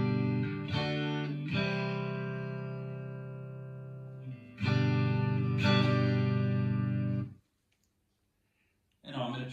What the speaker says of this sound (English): Here's my clean tone. It's a Strat through a 1980 Fender Pro Reverb.